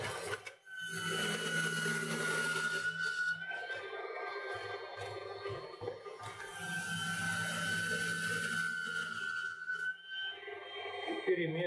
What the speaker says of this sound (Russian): Очень хорошая производительность у мясорубки